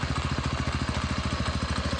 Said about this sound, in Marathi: ट्रॅक्टर आली.